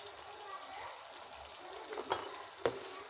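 Red chilli, coriander and cumin powders cooking with soya chunks in a pan, a low steady sizzle with a couple of quick spatula taps toward the end, close and fairly quiet.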